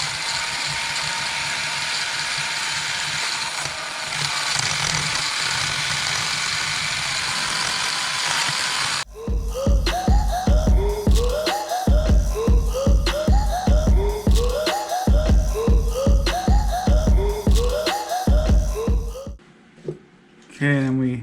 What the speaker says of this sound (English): And then we just have a drill bit with a wire wheel.